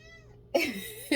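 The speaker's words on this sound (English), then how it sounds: "my cat is saying hello to you guys" A pet cat lets out two short meows in a quick pair, close and fairly loud, with a fainter tonal sound just before.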